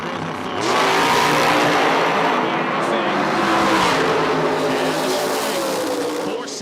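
Two Chevrolet drag cars launch at a drag strip at full throttle, a loud, sustained engine roar that rises and holds steady for several seconds close by, with a brief tire squeal and no talk over it.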